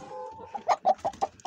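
A rooster clucks up close in a short burst of five or six quick, sharp clucks after a low murmur.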